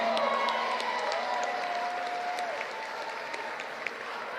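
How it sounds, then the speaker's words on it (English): A large crowd applauds at a university commencement ceremony as graduates wearing gold tassels stand, steady clapping in a big hall with a voice or tone briefly audible underneath, continuous throughout. "Applause."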